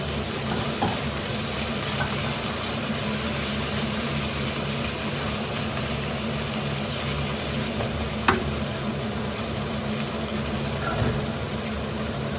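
Chili, ginger and garlic sizzle and fry steadily in a hot pan as they are stirred, a constant loud crackle with an occasional scrape of the spoon.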